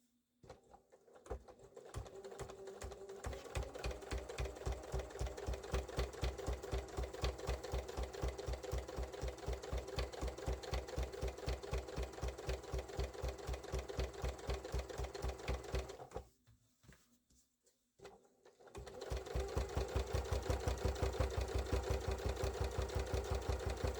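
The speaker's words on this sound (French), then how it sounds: "on va aller tout le long faire une couture" A sewing machine stitching a long seam with thread matched to the fabric: rapid, even mechanical clatter running steadily, a brief pause, then a faster, louder burst of stitching, close and with no talk.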